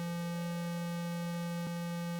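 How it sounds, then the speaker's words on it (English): Steady synthesized square wave tone with strong buzzy overtones, sustained and unchanging at moderate level, heard alone with no voices. "with a square wave that has a lot of overtones."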